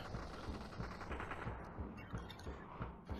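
Rapid gunfire crackles in the virtual reality shooter Population One, with dense bursts of shots and low thumps at an irregular pace, faint and somewhat distant, no talking.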